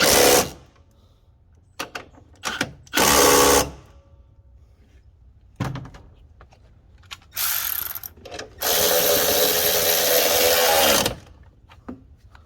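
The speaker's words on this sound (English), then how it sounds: "make sure you put in all 3 bolts first before tightening it down" A ratchet or power tool tightens the alternator bolts on a 2009 VW Tiguan, coming in loud close bursts of whirring and clicking, with one long run near the end and quieter ticks between them.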